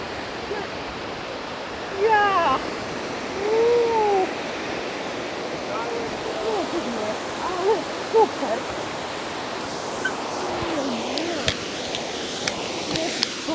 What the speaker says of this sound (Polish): Zabraliśmy mamę Damiana na wodospady Chroin Fossar.